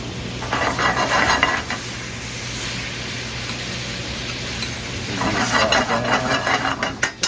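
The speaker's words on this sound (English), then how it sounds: "We start off on the deglaze. I have a little bit of rice vinegar, some fish sauce, and some tamari." Rice vinegar, fish sauce and tamari hiss and sizzle as they hit a hot pan, with a stirring scrape through the loud, steady crackle that swells again toward the end.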